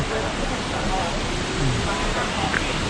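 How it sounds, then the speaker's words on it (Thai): A waterfall in Sapa, northern Vietnam, gives a steady, broad rushing roar that fills the whole stretch without pause, with a person speaking faintly under it. "โอ้โหน้ำตกย่งสวยงามเลย"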